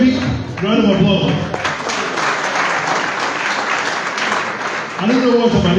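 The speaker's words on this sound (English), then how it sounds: "Can we give it a very big round of applause?" Audience applause at a Liberian government Civil Service Agency launch event, a dense, sustained burst of many hands clapping that holds steady for several seconds, with voices audible before and after.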